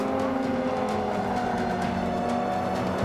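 Race car engine roaring at high revs with tires working hard in Forza Motorsport 5 on Xbox One, a continuous loud drone with a rising pitch near the end, heard alone without speech.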